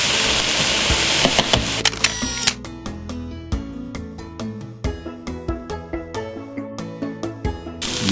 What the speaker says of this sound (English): and now we're chopping it up